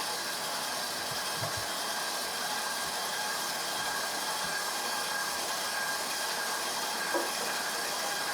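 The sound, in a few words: stand mixer mixing bread dough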